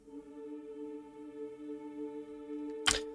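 A very quiet sampled women's choir holds a soft sustained chord alone, ending with a brief noisy burst.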